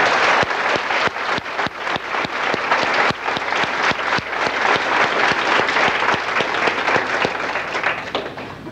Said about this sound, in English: Could we have a round of applause for these board members?